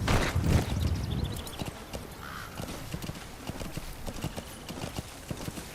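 A horse in Metal Gear Solid V: The Phantom Pain clip-clops along in a steady, close hoof rhythm that runs through the whole stretch, with a brief whinny-like sound near the start.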